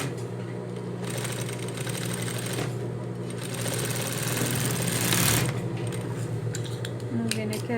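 A domestic sewing machine runs a second seam on capri trousers, a loud steady mechanical whir with a rhythmic needle clatter that swells near the end and lasts almost the whole stretch.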